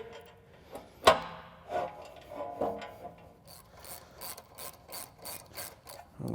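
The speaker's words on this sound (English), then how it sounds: "we went ahead and finished tightening up our 4 fasteners that holds the winch on" A hand ratchet tightening 13 mm fasteners on a Polaris winch, quick rhythmic pawl clicking in short bursts after a sharp metallic knock, close and clear.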